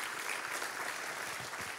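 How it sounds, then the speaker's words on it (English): A church audience claps together after a fundraising pledge total is announced, a dense, steady wash of applause that holds at an even level throughout, with no voices over it. "I think y'all should clap for that too"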